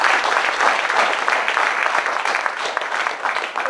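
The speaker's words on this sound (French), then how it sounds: "Je voulais vous applaudisser Florence pour les flûtes." Audience applause for a flute teacher at a school music performance, a dense, steady burst of clapping from a room full of people, close and fairly loud throughout, with no talking over it.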